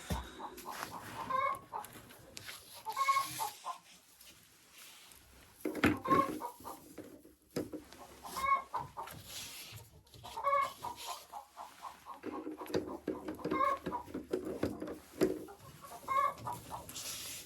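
Hens cluck in an unheated henhouse, with repeated short calls at a moderate distance and pauses between bursts and no talk.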